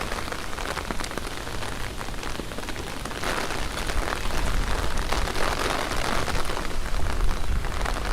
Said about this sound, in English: I'll enjoy the rain sounds.